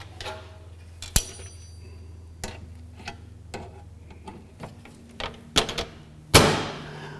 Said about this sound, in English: Now we'll put the door back on.